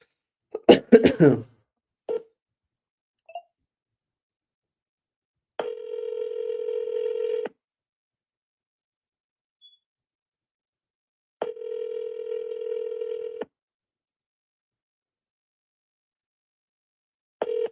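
A telephone call to a seller: a brief burst of dialing tones, then repeated long ringback tones in a slow, evenly spaced pattern, clean and alone with no talk.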